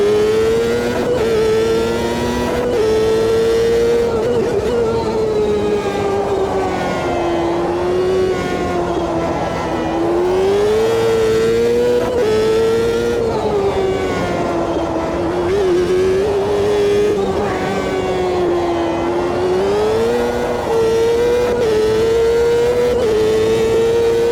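Champ Car open-wheel race car from the Automobilista 2 racing game, its engine droning loud and steady throughout with rising and falling pitch as it shifts, accelerates and lifts through corners.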